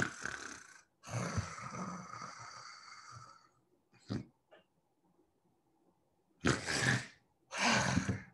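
A person imitates sleep apnea snoring, making a voice that copies the sound. Long, loud rasping snores alternate with gasps and a silent pause, then two more heavy snores, all close up.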